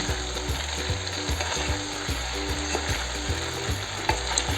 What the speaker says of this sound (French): Et là, on mélange délicatement le riz avec nos légumes.